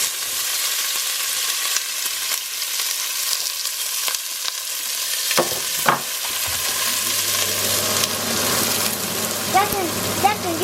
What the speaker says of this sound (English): See, now we put in the onion.